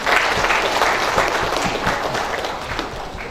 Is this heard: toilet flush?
no